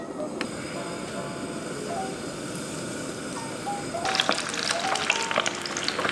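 Shrimp croquettes fry in hot oil, a steady bubbling sizzle that swells louder and crackles more sharply partway through, close and continuous with no talk.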